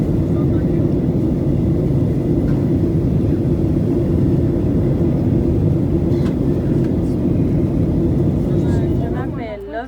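Steady, loud low-frequency rumble of an airliner cabin during descent toward Port-au-Prince airport, droning continuously for nearly ten seconds before fading slightly at the end.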